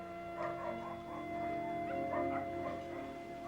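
A dog in a 1973 Barnaby Jones TV episode gives several short yips and whimpering barks in an uneven rhythm, fairly faint and close, over a faint steady tonal hum from the old soundtrack.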